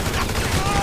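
Automatic weapon fire in GTA V Survival gameplay, a dense, loud burst of rapid shots filling the whole short moment with no pauses.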